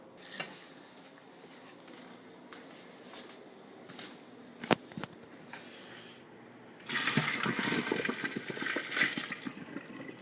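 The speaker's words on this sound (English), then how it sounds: "I'm going to put it in the strainer" Cooked spaghetti and its hot water are tipped into a strainer in a home kitchen, a burst of rushing, splashing water following some quieter clinks and handling noises, close by with no talk.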